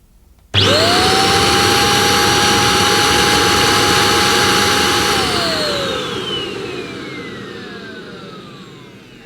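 A Goblin Essentials corded stick vacuum switches on abruptly and drones loudly with a high motor whine over plush pile carpet, then slowly winds down as the motor is switched off.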